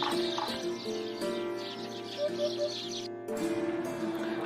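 A bird called bhupo calling in a short series of clear, repeated notes, layered over a steady tonal background, close and moderately loud with no talk.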